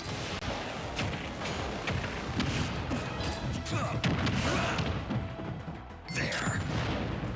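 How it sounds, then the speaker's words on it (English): Dense, continuous explosions and crashing impacts fill a Super Smash Bros match, loud and chaotic throughout with barely a pause between the booms. "a lot of explosions, not really anything coherent going on"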